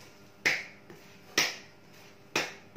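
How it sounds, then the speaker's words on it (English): Three sharp, crisp hand claps about a second apart, separated by quiet, during a school physical-education exercise lesson. "See that? Clapping."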